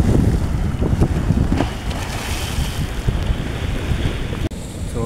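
Strong sea waves surging and breaking near a boat, a continuous rough wash of surf mixed with heavy wind buffeting the microphone, loud and close with no talking.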